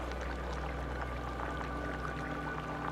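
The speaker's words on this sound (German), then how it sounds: "Guck mal, das ist Wasser" Water flowing steadily in the sci-fi video game The Invincible, a continuous rushing wash with a low hum under it, fairly loud and unbroken with no voices.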